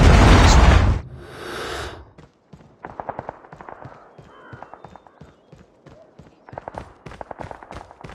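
In the video game Call of Duty Mobile, a Predator missile explosion bursts loud and close for about a second, then fades into a trailing rumble followed by rapid running footsteps and scattered thuds.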